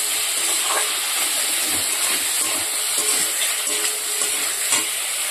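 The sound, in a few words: potatoes being sautéed in a pan for fish curry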